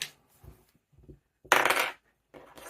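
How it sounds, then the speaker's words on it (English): Dice rattle and clatter onto a hard surface in a short burst during a cash-stuffing budgeting game, with fainter small knocks before and after, close by and with no talking. "And then we roll the dice."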